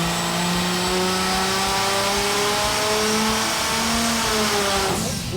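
A vintage turbocharged engine on a dyno with 7.5 PSI of boost revs up in one long, loud climbing pull, its pitch rising steadily before it cuts off abruptly near the end.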